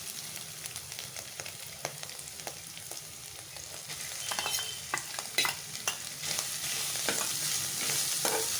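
Shredded chicken sizzles in a frying pan while being stirred and tossed, a bed of hissing frying broken by repeated scraping, clattering stir strokes that grow busier and louder toward the end.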